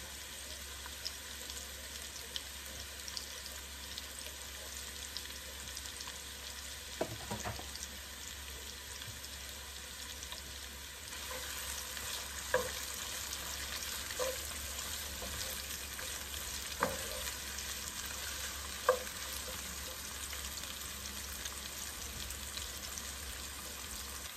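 Chopped onions with green chilli fry in a pan for a bottle gourd bhaji, giving a quiet, continuous sizzle broken by a few soft stirring clicks, with no talking.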